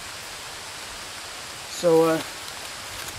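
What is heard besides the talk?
light rain falling on a tarp in the woods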